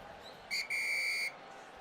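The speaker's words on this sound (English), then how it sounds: "The whistle of fate is about to sound." A shrill starting whistle in the Uma Musume video game sounds twice, a short toot followed by a longer steady blast, clear over quiet background noise.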